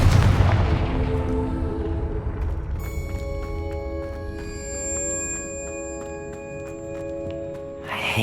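Confringo fire spell blasts in Hogwarts Legacy, opening with a heavy, rumbling explosion that fades into a sustained ringing, magical tone with regular sharp impacts and crackles, loud and close, with no talking.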